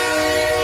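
A steady train whistle or horn blows continuously, loud and unbroken, with rail noise beneath it and no talk.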